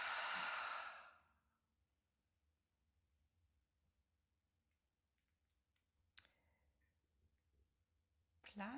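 A slow, breathy exhale during a yoga breathing exercise opens loud and close, fading out over about a second, followed by near silence with a sharp click and a later soft rustle.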